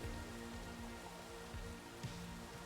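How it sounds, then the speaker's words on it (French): Rain falls in a steady, faint patter, with scattered drops tapping close by over a low continuous hiss. "Et il pleut tout le temps."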